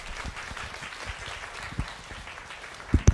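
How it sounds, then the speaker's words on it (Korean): Welcoming applause from a church congregation at a Sunday worship service as a guest pastor comes forward, a soft, steady patter of clapping with a couple of louder claps near the end. "나오실 때 환영의 박수 부탁드립니다."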